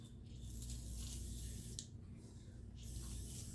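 Otis surface prep cleaner sprayed onto a knife during a restoration, with a few close hissing bursts over a steady low hum and no talking.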